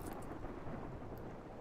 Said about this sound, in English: Oh, okay, it's raining.